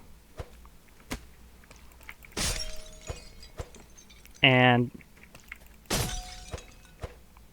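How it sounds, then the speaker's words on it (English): A glassy shattering burst in the Minecraft modpack Dawncraft, heard as a few loud, sharp breaking crashes spaced across the moment, alongside brief speech. "That shattering sound."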